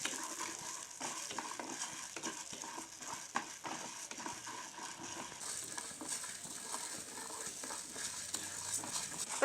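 White urad dal roasts in a little oil for a chutney, a quiet steady crackle with a dense rattle of lentils being stirred and scraped around the pan throughout.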